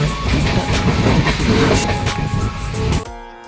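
A passenger train runs with a loud, close rumble and rhythmic rattling of the carriages, steady throughout before the sound drops away abruptly at the end.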